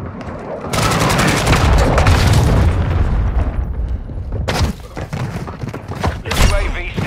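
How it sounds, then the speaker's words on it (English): Cruise missile strike in Call of Duty: Modern Warfare II, heavy booming explosions and rumbling impacts, loud and close, followed by a series of further blasts and crackling debris. "Hostile cruise missile launched."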